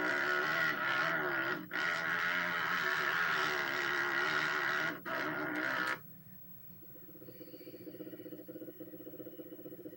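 The ATV engine in the PlayStation 2 video game ATV Offroad Fury drones steadily while driving in reverse, with brief dips, then drops abruptly to a quieter rattling idle.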